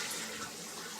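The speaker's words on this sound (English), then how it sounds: "I'll flush so you don't have to hear that." A toilet flushing, a steady broadband rush of water filling the bowl, close and continuous with no talk over it.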